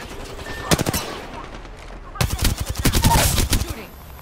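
Bursts of automatic gunfire in the Apex Legends battle royale shooter, a short volley early on, then a pause and a longer, louder run of rapid shots with a voice speaking over the firing.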